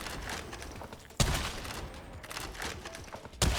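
Heavy stubber machine gun fired by an Ogryn in a video game, a dense continuous roar of rapid shots with sharp louder bursts at the start and end, heard over drum and bass music.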